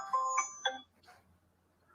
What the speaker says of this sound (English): There's my alarm going off to let me know to start getting ready for work.